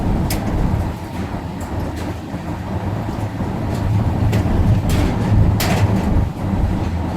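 Swiss car-carrying shuttle train, loaded with cars and a motorcycle, rumbling steadily along the rails, heard from inside a vehicle with continuous low rolling noise and occasional sharp clicks and knocks.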